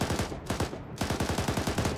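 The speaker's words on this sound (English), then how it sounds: "So I'm going to switch to the machine gun." A tank's machine gun fires in the American Armor video game, rapid bursts of loud close gunfire with a brief gap between volleys.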